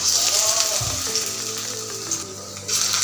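Jute leaf fritters sizzle and crackle in hot oil in a wok, a steady close frying hiss with a soft thump as the batter goes in.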